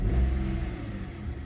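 A 2010 Hyundai i10 1.0 three-cylinder petrol engine with manual gearbox revs briefly from idle, a steady close-up engine rise with no talking over it.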